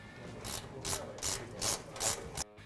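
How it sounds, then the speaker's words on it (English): Hand wrench tightening three 14 mm shock mount bolts on a Ford Raptor during an aFe front suspension install: five evenly spaced rasping ratchet strokes, close and moderately loud, with no talking. "Use a 14 wrench to tighten down the 3 bolts."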